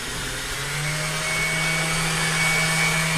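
An electric mixer whirring steadily through a celery seed salad dressing, a constant loud motor hum with a high whine, no talking.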